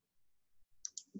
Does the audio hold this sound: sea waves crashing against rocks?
no